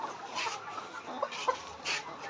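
Layer hens clucking on a farm in short bursts, several calls spread across a couple of seconds over a low murmur of background noise.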